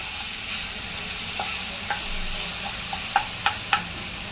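Green chilies and ginger-garlic paste sauté in a pan with a soft, steady sizzle. Several sharp clicks of a spoon against the metal punctuate it, clustered toward the end.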